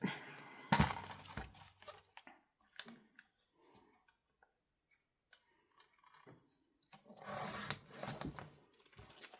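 Paper being trimmed for a paper bag journal, close and quiet: crisp rustles and snipping cuts in short bursts, a near-silent gap in the middle, then a louder flurry of paper handling.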